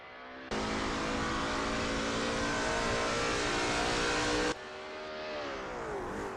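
A Lola T70 MkII Spyder race car on a practice out lap at Sebring International Raceway, its engine holding a loud, steady high-pitched drone for about four seconds before cutting off abruptly, then a fainter engine note rising afterward.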